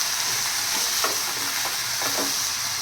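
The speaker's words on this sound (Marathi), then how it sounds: "आता इथे सर्व भाजी टाकल्यानंतर हे छान मिक्स करून" A spoon stirs a coriander vegetable mixture frying in a pan, with a steady close sizzle under several scraping strokes and no talking.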